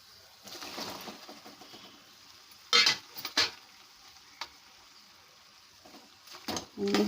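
Vegetables mixed in a metal cooking pan in a village kitchen for Malvani-style gayvda bhaji, with several sharp clinks and scrapes of a spoon against the pan over faint background noise.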